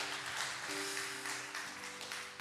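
Steady applause from a church congregation welcoming guests fills the room at moderate distance, an even wash of many hands clapping with a faint sustained organ or keyboard tone underneath.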